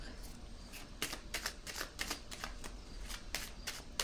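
Tarot cards riffle and snap as they are shuffled and drawn, a quick run of crisp papery bursts repeating every fraction of a second over a faint steady hiss, close and moderately quiet.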